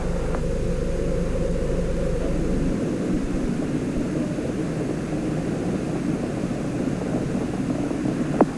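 Space Shuttle Challenger's rocket engines roar during its January 1986 launch from Florida, a steady, broad, distant rumble with wind-like hiss carried through a broadcast feed.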